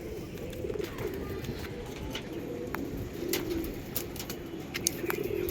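Kalanka pigeons cooing softly, with low, rolling coos recurring every second or so against a steady background hum and occasional faint clicks, the birds sounding moderately close but quiet.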